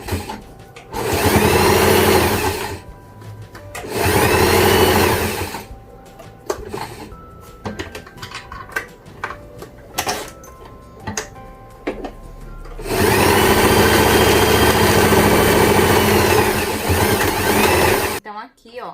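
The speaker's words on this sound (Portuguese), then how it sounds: "vou passar aqui rebatendo a costura com meio pezinho de máquina" A sewing machine topstitches a seam beside a zipper on a bow clutch bag, running in long loud close bursts separated by pauses filled with handling clicks and fabric rustle.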